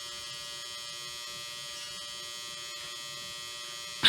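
A clothes dryer runs indoors with a low, steady mechanical hum and faint tumbling, ending in a brief sharp clatter at the close.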